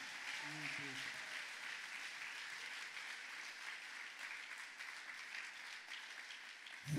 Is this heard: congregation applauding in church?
yes